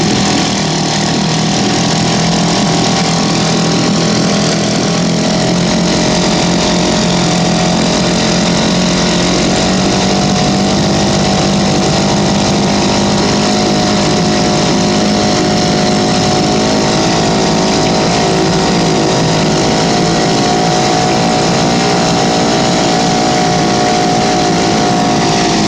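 A 1955 Elgin 2.5 hp outboard motor runs in a water barrel with heavy prop cavitation, a loud, steady, unbroken engine drone and churning water lasting the whole stretch, with no voices.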